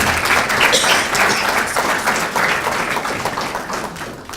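Audience applause for students at an international education week opening ceremony, loud and steady clapping from a crowd that tapers slightly over a few seconds.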